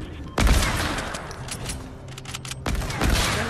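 Gunfire in the video game Fortnite: two loud bursts of shots, one at the start and another near the end, with dense rattling game noise and effects filling the space between them.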